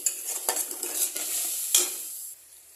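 Alu kachkoler tarkari stirred in a pan over medium heat, with several scraping spatula strokes against the pan over a soft, steady sizzle, close and fairly loud, no voices.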